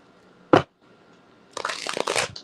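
Tarot cards being shuffled during a reading: one sharp snap, a brief pause, then a dense rapid riffle of cards close to the microphone, with no voices.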